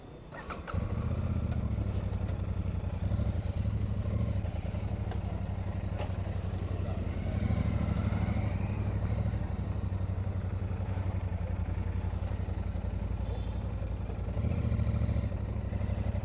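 A Royal Enfield Super Meteor 650 motorcycle runs steadily and loud throughout, a deep continuous engine drone with slight swells in revs as the ride gets under way, no talking.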